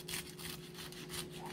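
A knife saws through a crispy beef and feta spring roll, making a quiet, rhythmic scraping crunch over a short stretch with no talk.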